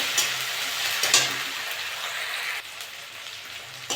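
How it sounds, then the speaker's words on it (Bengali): Ginger-garlic paste frying in a hot pan for potato curry, a dense, steady crackling sizzle with brief louder spits and stirring scrapes, close and continuous with no talk. "আদা রসুন বাটা এক চামচ দিয়ে দেবো আদা রসুনটা একটু ভেজে দেবো"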